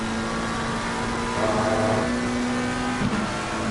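Onboard engine note of a McLaren GT3 race car at the Barcelona circuit in Assetto Corsa Competizione, a sustained steady drone that swells briefly as the car accelerates, with no talking.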